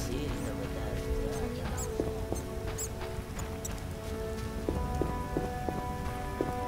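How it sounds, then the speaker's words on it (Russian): Heavy rain in The Witcher video game falls as a dense, steady patter, mixed with faint chirping and tinkling game sounds and no talk. "Такого сильного дождя."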